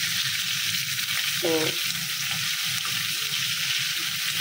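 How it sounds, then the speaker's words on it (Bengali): Fish frying in a pan on a stove gives a steady, close sizzling hiss that runs the whole time, with a single brief word spoken over it. "এখানে যে মাছ ভাজতেছি, এটা আমার ছেলে মেয়ে 3জনেরই খুব পছন্দ, ভাজা মাছ।"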